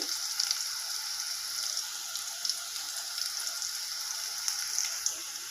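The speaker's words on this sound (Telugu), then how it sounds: "ఇలా ఆయిల్లో వేగుతున్నాయండి" Bitter gourd frying in oil until golden, a constant close sizzle with light patter-like crackles and small pops, no speech.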